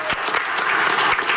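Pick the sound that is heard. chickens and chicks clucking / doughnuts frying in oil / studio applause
studio applause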